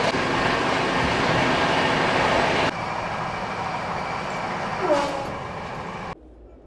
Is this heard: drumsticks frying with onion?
no